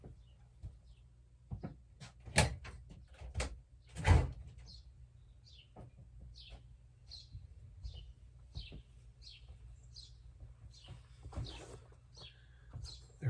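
Birds chirp outdoors through an open door, a quiet scattered series of short calls, with a door knock and a couple of soft thumps nearby.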